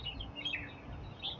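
Small birds chirping in Nan Lian Garden in spring, a few faint high tweets scattered over quiet background hum, with no voices.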